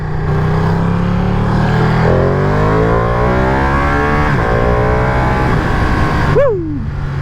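A Ducati Panigale V2 motorcycle accelerates hard on a road, its loud engine climbing through several gears with rising then dropping pitch, recorded close from the bike and ending with a sharp high rev.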